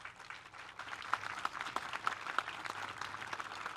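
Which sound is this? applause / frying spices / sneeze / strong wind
applause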